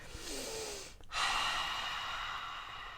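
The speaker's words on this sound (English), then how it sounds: "it's breathe it in and breathe it out." A slow breathing exercise: one soft, airy inhale followed after a short pause by a longer, steady exhale, close and quiet with no talking.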